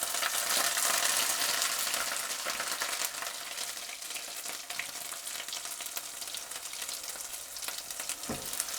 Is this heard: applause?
no